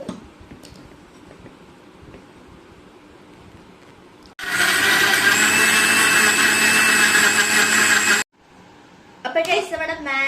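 A kitchen blender whirs loudly for about four seconds, blending mango with sugar for a bubble tea shake. Quiet room noise comes before it, and voices follow after it stops.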